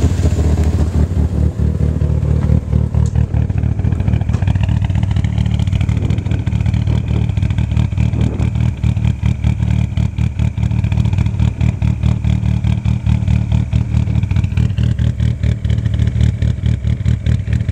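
A 1994 Eagle Talon TSI AWD engine fitted with 272 cams idles loud and close, its lumpy, choppy rhythm pulsing steadily with a rough mechanical clatter throughout, no one speaking.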